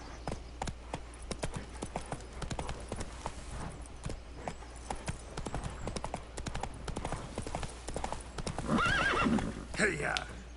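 Roach, Geralt's horse in The Witcher 3, gallops with rapid hoof clip-clops and then lets out a loud neigh near the end, while a person talks over the hoofbeats.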